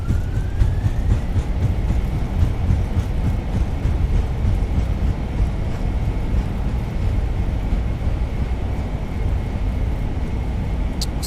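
Steady, loud roar of Airbus A320 thrust reversers on the runway after landing in a flight simulator, a constant broadband rumble holding unbroken for the whole stretch with no talk.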